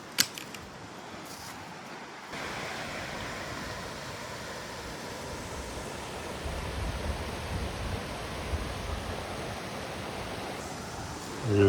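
A creek flowing out of Pierce Pond along the Appalachian Trail, heard as a steady, close broadband rush of moving water that swells in after a brief quiet start and carries on evenly with no talking.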